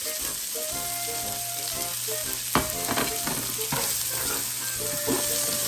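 Chicken luncheon meat frying in a pan for egg fried rice, a steady close sizzle with stirring scrapes and a few clanks from the utensil, no talk.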